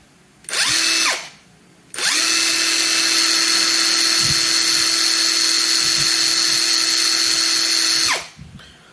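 Ronix 8906K impact driver spinning at its third speed setting: a short whirring burst, a brief pause, then a loud, steady high-pitched motor whine held for about six seconds before spinning down.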